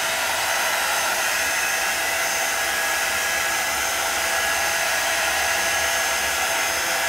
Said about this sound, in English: This heat gun takes a little bit to get warmed up.